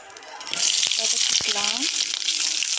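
Onions and chillies sautéing in a hot pan, a loud continuous sizzle that jumps up as they go in, with brief clinks and a voice speaking over it partway through.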